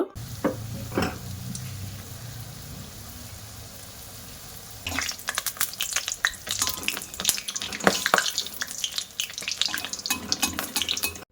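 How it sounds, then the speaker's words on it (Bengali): Small dough balls for dahi pitha drop into hot oil and fry. A faint hiss gives way midway to loud, dense crackling and sizzling close by, with no talk. "তেলটা গরম হয়ে গেছে এবার আমি হাত দিয়ে বেশ ছোট ছোট করে গোল গোল করে দিয়ে দেব"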